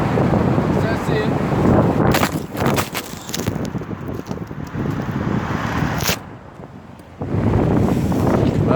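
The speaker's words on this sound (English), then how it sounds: "man, it is windy today" Strong outdoor wind buffets the microphone in loud, continuous gusts, easing briefly before surging back, with a voice partly audible beneath the rumble.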